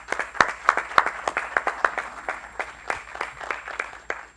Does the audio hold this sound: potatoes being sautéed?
no